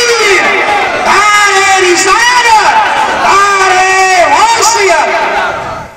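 A large religious gathering's crowd roars a chant back in unison, loud voices swelling in waves with cheering and some shouting over a voice.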